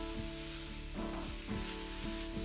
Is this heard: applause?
no